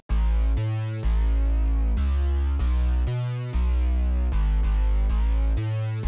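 Big, fat pop EDM bass made in FL Studio, a deep sub bass stacked with a wide distorted grit bass, playing sustained pulsing notes that duck rhythmically from sidechaining, loud and dense throughout with no voices.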